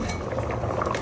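Tapioca (kappa) boiling in water in a covered pot on a gas stove, giving a dense, continuous bubbling and burbling close by with no pauses.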